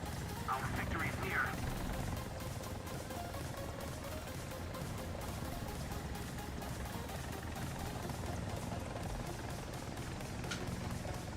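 An Mi-28 attack helicopter in a video game gives a steady, heavy rotor and engine rumble with rapid gunfire layered over it, continuous and loud throughout.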